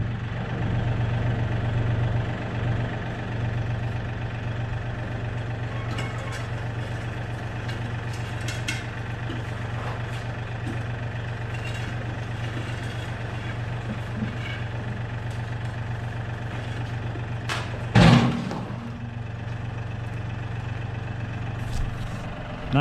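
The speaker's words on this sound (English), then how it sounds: "The tractor's waiting out there to move it" A tractor engine idles outside a workshop, a steady low drone and rumble throughout with faint clanks in the background and one brief louder knock partway through.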